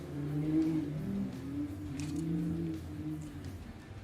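Can-Am off-road race vehicles in the Vet 40 Plus Outlaw and Stock classes roar off the start line together, a steady engine drone with pitch surges as they accelerate away at moderate distance.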